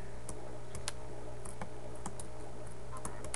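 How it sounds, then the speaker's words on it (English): Quiet, quick computer mouse clicks come in an irregular scatter while someone works on photo selections in Photoshop CS5, heard alone against a faint room hum. "I'm just gonna click around."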